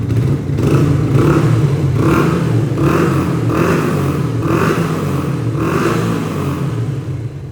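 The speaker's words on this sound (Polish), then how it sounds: "Klikam zapłon, no i sami posłuchajcie, jak ten motocykl chodzi." A 2012 Yamaha YZF-R125 motorcycle engine fitted with a TB Killer runs loud and close, rising in rhythmic revs roughly once a second over a constant rumbling idle.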